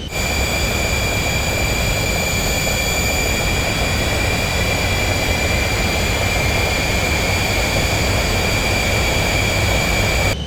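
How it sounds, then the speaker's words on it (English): Both engines of a twin-engine aircraft with a Proline avionics package run in a VR flight simulator after start-up, giving a loud, constant jet whine with high steady tones over a low roar. "Okay, so we've got a good engine start on both engines."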